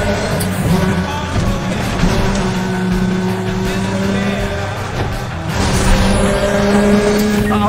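Race cars roar continuously through a street race in Need For Speed The Run, engines droning loud and steady with shifting pitch and a surge of noise partway through.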